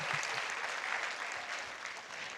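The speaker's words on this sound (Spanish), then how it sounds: "Un aplauso para la variante otaku de Enrique." Conference audience applauding, a steady wash of many hands clapping at moderate distance, alone without speech, fairly quiet.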